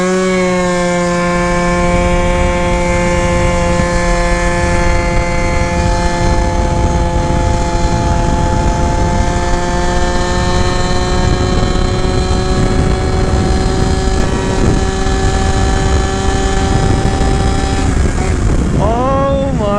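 A Jog scooter engine screams at top speed in one long, steady, high-pitched drone, loud and close, dipping slightly as the rider backs off near the end.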